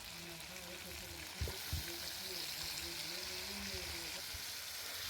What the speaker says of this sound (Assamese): নিমখ দি ভালকৈ লৰাই অকণ ফ্ৰাই হ'ব দিম